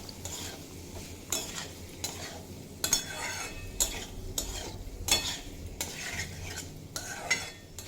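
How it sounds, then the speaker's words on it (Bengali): Potatoes and papaya, fried beforehand, stirred in a pan with spices, with a steady run of scraping spatula strokes against the metal and a faint sizzle underneath, the strokes coming in regular sweeps. "এবার এড করে দেব আগে থেকে ভেজে রাখা আলু আর পেঁপে, দিয়ে মশলার সাথে কষিয়ে নেব"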